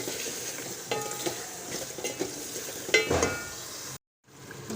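Tomatoes and meat sautéing in a pan for chicken curry, a continuous moderate sizzle with intermittent stirring scrapes and clinks, cutting out abruptly near the end.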